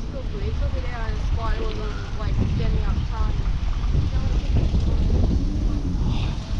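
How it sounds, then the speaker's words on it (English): Strong wind buffets the microphone in a loud, continuous roar in outback country just over the Queensland border, while someone talks over it. "Bloody wind. It's been windy like this all day."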